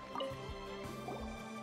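Water gathered in Genshin Impact, heard as a few soft game drips and liquid splashes over a steady background music bed, brief and moderately quiet.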